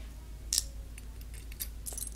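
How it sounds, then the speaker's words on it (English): Small keys for a diary jangle briefly near the microphone, a bright metallic shake followed by a few lighter clinks against a quiet room background. "Then these are the keys to my diary."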